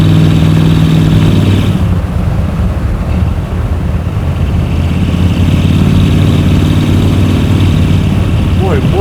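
A 1969 Ford F-100 pre-runner truck with a 390FE V8 drives steadily, its loud, continuous engine rumble and road noise filling the cabin from start to finish with no pauses.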